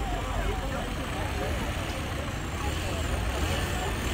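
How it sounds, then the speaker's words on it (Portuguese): A municipal street-cleaning truck rumbles nearby at dusk, a steady dense engine and road noise without pause throughout. "caminhão da prefeitura terminando de fazer a limpeza"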